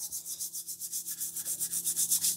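A vegetable brush scrubbing stalks of celery clean before juicing, quick rhythmic bristly strokes, around twenty in a steady run that grows slightly louder, close up with no talk.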